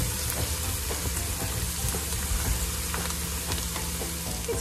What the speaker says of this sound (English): Keep, you know, stirring it around